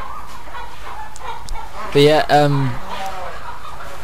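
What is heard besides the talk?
chickens clucking in Euro Truck Simulator 2 video game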